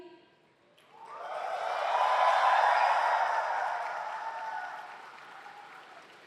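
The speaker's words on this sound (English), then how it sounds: "let's keep the applause going for all our students from all the different countries." Audience clapping at a university convocation ceremony in a large hall, swelling from quiet to a sustained, full round of applause and then gradually tapering off.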